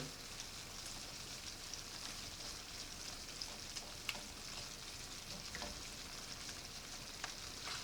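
Large shrimp sizzle in a pan on the hot spot of a stove, a faint continuous crackling hiss with scattered small pops, no voices.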